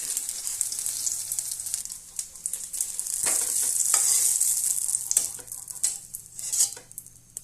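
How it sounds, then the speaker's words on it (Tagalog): Garlic and onion sauté in a pan for Bicol express pork, making a bright, close sizzle with bursts and clinks of a utensil stirring and scraping against the pan, and no voices. "pag-umpisa tayo ng pagigisa"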